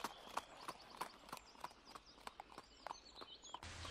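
Hooves clip-clop in a steady, even rhythm, a dozen or so crisp hoofbeats at moderate distance, with faint birdsong and no speech.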